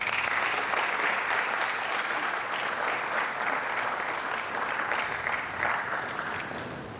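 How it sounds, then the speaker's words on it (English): Sustained applause from an audience at a student conference after a presentation, steady and dense clapping that fills the room, tapering slightly at the end. "I think he deserves more clap."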